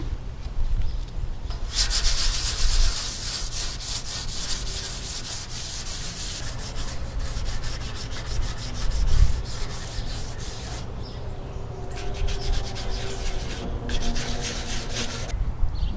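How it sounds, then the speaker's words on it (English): Steady close hand sanding of metal parts from a vintage Hazet 166N tool with 320-grit sandpaper, a continuous scratchy rubbing in long back-and-forth strokes with brief pauses and no talk. "I'm going to try to sand everything down with a 320 good sandpaper"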